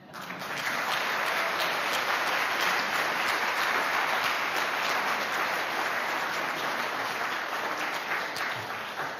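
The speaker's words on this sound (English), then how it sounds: "you can hear hundreds of people not only applauding your words" A large crowd applauds continuously, a dense, even wash of clapping that swells quickly and holds steady throughout.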